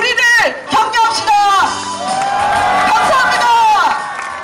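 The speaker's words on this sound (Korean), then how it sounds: "모두 함께 우리 힘찬 박수로 우리를 격려합시다" A large outdoor crowd of about two thousand at a Sewol ferry disaster 500-day memorial rally cheers and shouts, with a loud voice rising over the noise, whoops and a sustained roar, and applause blended underneath.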